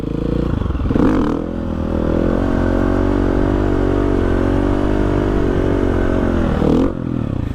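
A motorcycle engine drones at steady high revs in second gear through a wheelie, loud and close, with a sweeping pitch change at the start and again near the end, and no talking.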